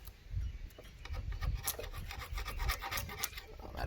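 Screwdriver scraping old coating off a truck part, a steady rough rasping and scratching with repeated strokes, close and fairly quiet with no talking.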